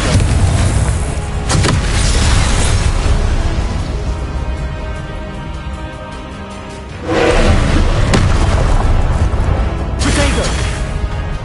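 A Confringo spell explosion effect in a Harry Potter duelling game: loud deep booming bursts with rumbling roars, swelling and fading over several seconds, then another heavy blast.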